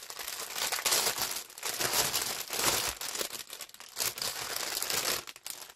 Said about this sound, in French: C'est mieux si j'enlève les papiers.